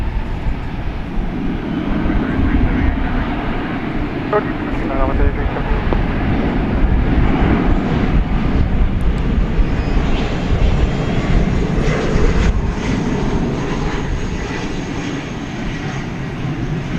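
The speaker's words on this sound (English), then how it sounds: "here comes the Volaris. And once again, this is headed to the Mexican city of Monterrey" A Volaris airliner on a runway at DFW Airport at night, its engine roar a steady, loud broadband rumble throughout, mixed with gusting wind noise on the microphone.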